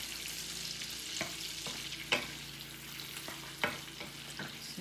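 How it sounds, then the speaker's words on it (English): Sausage browns in a hot pan, giving a steady close sizzle with several sharp clicks and pops of stirring spread through it and no voices. "So that sausage is browning a little bit."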